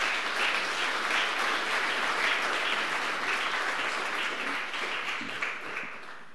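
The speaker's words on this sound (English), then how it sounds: "big round of applause for Juliet" Conference audience at a Te Au o Te Moana ocean gathering in New Zealand applauding a speaker onto the stage, steady crowded clapping throughout that gradually tapers off toward the end.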